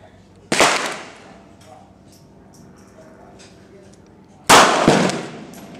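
Two loud, sharp gunshots from a Smith & Wesson BG380 Bodyguard .380 ACP pocket pistol, spaced about four seconds apart outdoors, each with a short decaying tail and faint background noise between.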